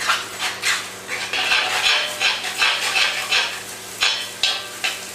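Eggs scrambled in a pan while making fried rice, with a spatula or utensil clinking and scraping against the pan in an irregular rhythm over a soft sizzle, close and clear with no talking.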